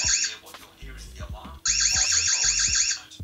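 An EZVIZ Mini Plus indoor security camera sounds its alarm up close, a loud warbling siren in two bursts with a brief gap, while someone speaks over it.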